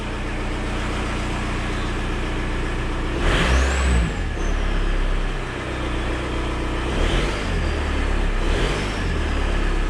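Steady rumble of a 1.9 TDI diesel engine in a VW Beetle with a thin rising turbo whistle appearing briefly, then fainter whistles later over the continuous drone.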